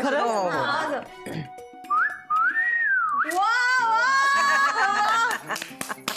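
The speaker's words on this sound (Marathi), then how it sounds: "मला खरंच वाजवता येते शिट्टी" A person whistles a wavering tune in a few bursts, with laughter and chatter before and between the notes.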